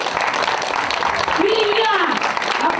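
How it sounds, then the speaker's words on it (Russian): An audience claps steadily through a press conference with the cast of a stage musical, a dense continuous patter of applause with a voice speaking over it. "Полина, аплодисменты."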